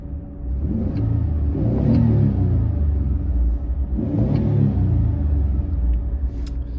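A 1988 Chrysler New Yorker with a 3-speed automatic revs while driving, its engine rumbling loud and steady and swelling in two pulls close to the car.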